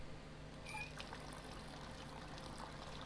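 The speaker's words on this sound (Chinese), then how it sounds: "我们打开水龙头" A water tap runs inside the Rick and Morty VR game, making a soft, faint pour and trickle that flows steadily throughout.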